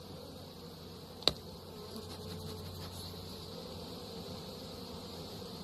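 Honey bees hum in a faint, constant drone around an opened hive box, with a single sharp click near the start and soft rustling throughout.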